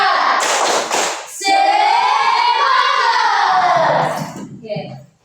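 A classroom of children performs a rhythmic spirit clap: a quick run of sharp, close hand claps, then a long, loud group chant in unison that fades out near the end.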